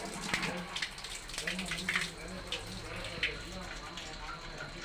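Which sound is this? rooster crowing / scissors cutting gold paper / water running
water running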